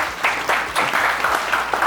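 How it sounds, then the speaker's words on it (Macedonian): A live comedy-show audience claps loudly in a quick, pulsing rhythm, each burst of applause following closely on the last. "голем аплауз за оваа приказна."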